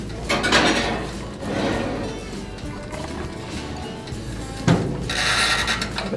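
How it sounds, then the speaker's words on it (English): A cheeseburger casserole dish with its lid left off goes into a preheated oven, with clattering handling and scraping of the dish and rack, a rising clunk near the start and another knock toward the end. "It's going to go in the oven."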